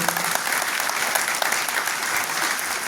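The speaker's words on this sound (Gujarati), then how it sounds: "જોરદાર તાળી દીધી આપણા કલાકારો માટે" An audience claps warmly for women dancers who have just finished three dance items at a silver jubilee cultural function in Palanpur, a dense, steady burst of applause lasting throughout.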